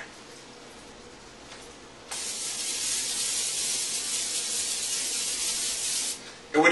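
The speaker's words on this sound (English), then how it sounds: "spray your non-stick cooking spray onto your frying pan." Non-stick cooking spray hisses steadily from a can onto a frying pan for about four seconds, close and fairly loud, starting abruptly after a quiet moment and then cutting off.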